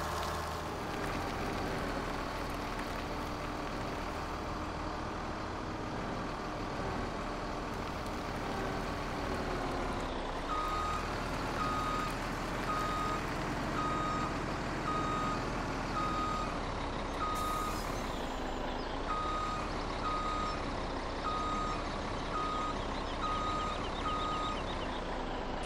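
Steady repeating reversing beeps from a truck and trailer in Farming Simulator 17, a continuous engine hum running underneath, with no talking.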